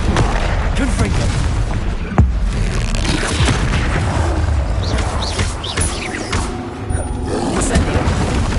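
Booming spell blasts and impacts from a Harry Potter video game, including the Confringo explosion curse. A sharp burst stands out amid dense, ongoing crackling and rumbling magical combat, with speech mixed in.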